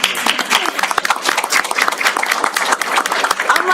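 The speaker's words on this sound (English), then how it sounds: "yes, let's clap." Applause from the audience at a city council meeting, a dense burst of many hands clapping close by that holds steady for the whole stretch, with faint voices mixed in.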